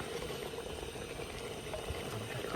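Handi chicken cooking in a pot with a steady bubbling, simmering wash throughout, fairly quiet and even, with faint scraping suggestive of stirring.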